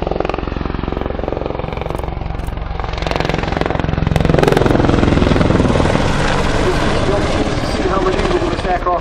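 A Boeing Apache attack helicopter flies low, nap-of-the-earth, at an air display at Dunsfold, its loud, steady rotor and engine roar filling the whole stretch and swelling slightly midway, with commentary over the top.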